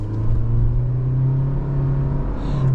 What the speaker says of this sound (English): it's a naturally aspirated 4-cylinder engine, but it doesn't sound particularly good when it comes on